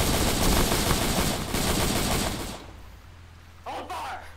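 A firing-squad volley in a video game: loud overlapping gunfire rattles for about two and a half seconds, then cuts out to quiet, and a voice speaks briefly afterward.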